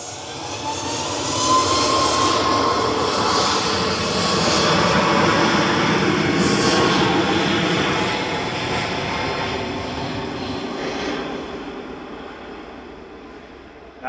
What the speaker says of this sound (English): Ryanair departing now to Tenerife South with flight 4332.